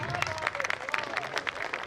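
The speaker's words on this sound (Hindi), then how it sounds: "एक बार जोरदार तालियां बजा दें" Audience applause at a live Hindi comedy poetry gathering in Faridabad, a steady dense patter of many hands clapping close by, sustained through the short moment with no speech over it.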